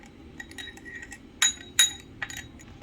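A spoon stirs yeast and sugar into warm water in a glass, giving faint, scattered clinks, with two sharper taps against the rim over a quiet background.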